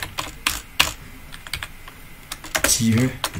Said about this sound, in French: si je tape Python 3